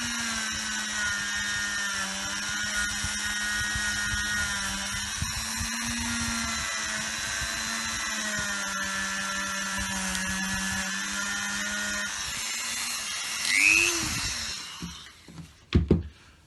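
A Dremel rotary tool works on a Dinky toy motor during restoration, a steady high whine with layered harmonics that holds for about twelve seconds, then wavers and winds down, with faint clicks at the end and no speech.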